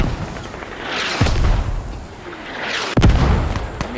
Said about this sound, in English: Mortars landing right on YB SO, causing them to spread out and run away.